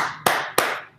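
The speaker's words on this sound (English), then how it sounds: "Clap, clap." Two sharp hand claps about a third of a second apart, close and fairly loud, each with a quick decaying ring and no talk around them.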